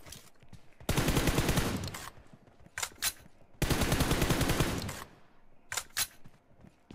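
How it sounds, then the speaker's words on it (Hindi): Bursts of automatic gunfire from a mobile shooter video game, two long sustained volleys each followed by a few short, sharp shots, loud and close with no talk over them. "कब से फायर दे रहा हूँ?"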